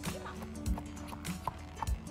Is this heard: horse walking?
yes